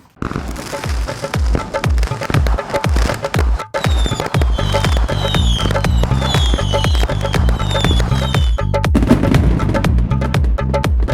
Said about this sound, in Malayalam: കൗണ്ട് ഡൗൺ പടക്കം പൊട്ടിക്കാൻ പോവാണ്